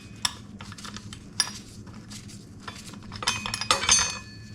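Metal brake parts on a CRF150R clink and tap as a caliper bolt is pulled off, with scattered light metallic clicks building into a busier rattle near the end, close up and without talk.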